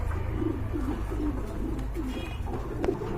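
Lively, restless pigeons coo nearby in a string of rolling, regularly spaced throaty calls over a constant low hum.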